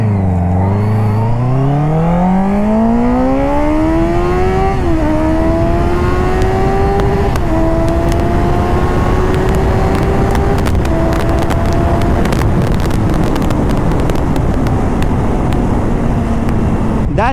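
Honda CBR 650F motorcycle fitted with an Akrapovic exhaust pulling hard on an open highway, loud engine note climbing steadily through the revs with a gear change around five seconds, heavy wind buffeting the microphone.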